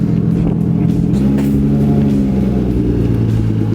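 Infiniti G37S with a manual gearbox driving and accelerating, a steady loud engine rumble with rising harmonic tones as the revs climb, close and continuous with no talk.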